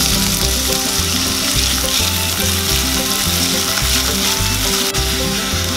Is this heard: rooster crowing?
no